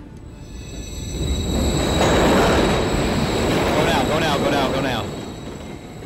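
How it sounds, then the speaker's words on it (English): A train rumbles past in the video game Modern Warfare 3, building from a steady roar to a loud wash with wheel squeal at its peak, then fading slightly; faint voices are mixed in under the noise. "Another train coming."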